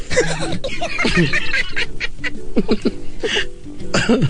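A turkey call sound effect played on a radio call-in show: repeated gobbling, honking bird calls in quick bursts throughout, loud and close over a busy, cluttered background.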